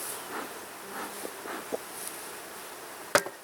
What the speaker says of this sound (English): It's certainly a pretty healthy looking hive. A lot of bees in it,